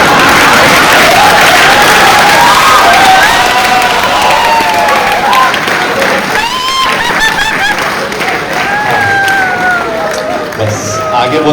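A crowd at a Hindi kavi sammelan poetry event breaks into loud, sustained applause mixed with cheering and rising whistle-like tones, the clapping dense at first and thinning slightly toward the end.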